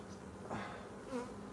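Honey bees buzz in an open hive during a hive split, a faint, soft hum with two passing swells of nearby wingbeats.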